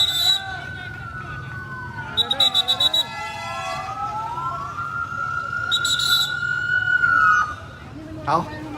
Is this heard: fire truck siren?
yes